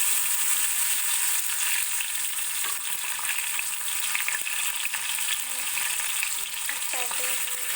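Tomato frying in hot oil with cardamom and other spices gives a steady, even hiss. Faint stirring scrapes come through, and a few high tonal clinks sound near the end.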